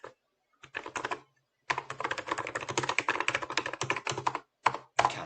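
Bursts of rapid key clicks on a computer keyboard as a number and prompt are entered into Python code, nearby and fairly quiet, with short pauses between runs of typing and no talking.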